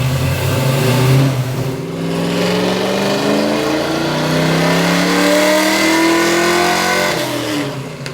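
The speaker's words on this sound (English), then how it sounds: "And then it was time to do some full power pulls." A 1965 Ford Mustang engine at full power on a dyno, roaring loud and close as the revs climb steadily, briefly dip, then climb again in a long rising pull with no talk.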